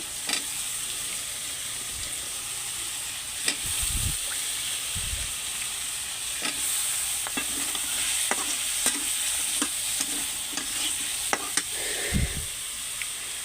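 Taro stems stirred while they fry in a kadai, a soft continuous sizzle broken by several sharp scrapes and knocks of the spatula against the pan.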